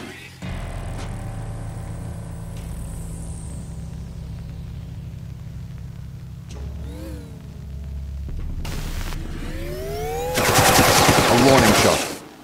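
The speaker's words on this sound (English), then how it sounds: "A warning shot." A single gunshot warning shot in The Turing Test video game, a sharp loud crack standing out against a low humming ambient drone and synth tones, followed by a bright swelling sweep.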